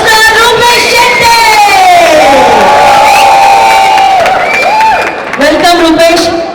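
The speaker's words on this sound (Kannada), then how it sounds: "ಒಂದು ದೊಡ್ಡ ಚಪ್ಪಾಳೆಗಳ ಮೂಲಕ ಸ್ವಾಗತಿಸೋಣ" A large crowd at a Kannada film event cheers, whoops and shrieks loudly in welcome for actor Roopesh Shetty, a dense, sustained roar of many voices.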